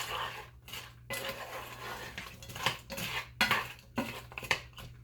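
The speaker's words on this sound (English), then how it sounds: "Okay, I'm gonna cook these for about 5 minutes." Carrots and other frozen vegetables sauteing in a pan for a home dinner, a steady sizzle broken by repeated clinks and scrapes of a utensil against the pan, close and moderately loud with no talking.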